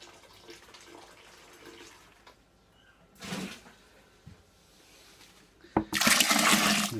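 Water is poured into a wine kit fermenter in short bursts: a brief splashing gush partway through, a quiet lull, then a louder rushing pour near the end.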